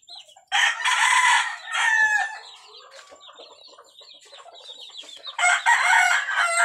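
Backyard gamefowl chickens and chicks in a keeping area, with loud bursts of crowing and clucking at the start and end and softer chirping and clucking in between, close to the listener.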